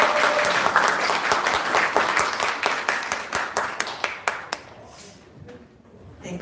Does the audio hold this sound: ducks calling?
no